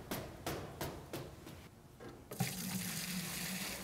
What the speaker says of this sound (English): Add the exact amount of water called for to the mixing pail